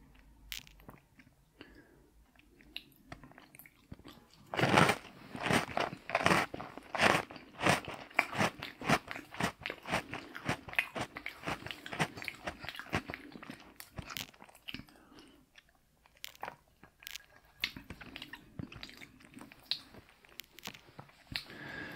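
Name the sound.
eating Oreo cookies, crunching and chewing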